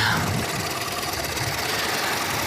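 A Harley-Davidson motorcycle engine, foot-clutch and hand-shift type, runs steadily right after starting, a continuous close mid-pitched rumble with a loping low pulse and no talk over it.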